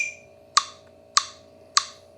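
Metronome clicks from the Tempo app by Frozen Ape, set with an accented first beat followed by regular beats: three sharp, evenly spaced ticks about 0.6 seconds apart, close and clear over a quiet background.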